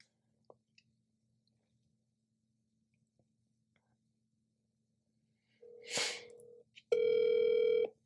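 A telephone call to a burner phone: a short electronic tone burst, then a steady, loud ringing or dial tone at the end, following near silence broken by faint ticks.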